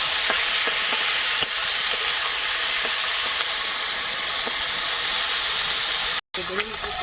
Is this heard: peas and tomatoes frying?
yes